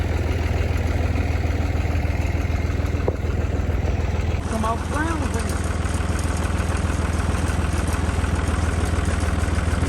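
Tractor engine idling steadily after being hooked up, a constant low rumble throughout with people talking briefly over it outdoors.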